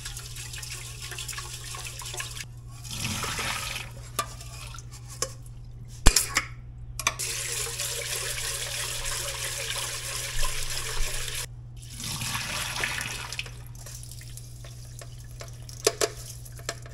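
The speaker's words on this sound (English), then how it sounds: "We're gonna rinse this twice." Sushi rice is rinsed in a pot of water in a kitchen, with sloshing and swirling splashes, occasional sharp clinks of a pot or utensil, and a steady low hum throughout; no one speaks.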